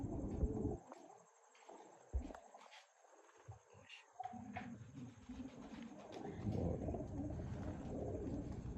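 Teddy pigeons cooing softly in a loft, low murmuring coos mixed with rustling and faint background noise, a male bird among them.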